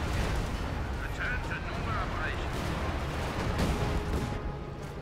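Airstrike explosions and battlefield fire in the WWII strategy game Company of Heroes 2 make a dense, continuous rumble of blasts and crackling gunfire, loud throughout with heavier booms midway.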